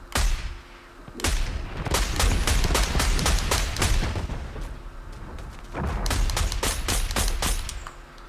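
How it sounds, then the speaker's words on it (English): Rapid bursts of automatic sniper rifle fire ring out in Fortnite's Tilted Towers, loud cracking shots in quick strings with brief pauses between volleys. "This gun's okay. I mean, it shoots really quick"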